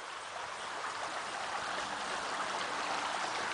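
River water flowing steadily, a constant soft rushing hiss with a gentle gurgling texture, heard alone and at an even, fairly quiet level throughout.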